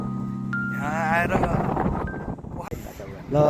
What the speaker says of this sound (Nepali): हावा खतरा चलिरहेको छ। आवाज कटाउला त्यसलाई चाहिँ